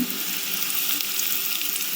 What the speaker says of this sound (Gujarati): તો આપણે આમાં ઝીણું સમારેલું લસણ એડ કરી દીધું છે